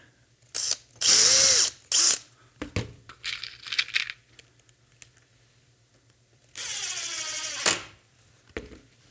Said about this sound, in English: you can take it close with the power tool, and then you can do that last little bit by hand